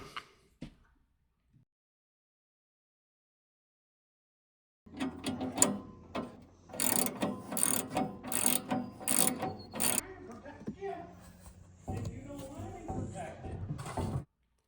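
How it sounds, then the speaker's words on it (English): Bolt, washers, lock washer and nut being fitted and tightened for a seat belt on a D3 dozer; brisk metallic ratcheting clicks in bursts after a quiet start, with a voice talking briefly early on. "it's just a matter of putting the bolt through, putting the washer on, lock washer, and then the nut"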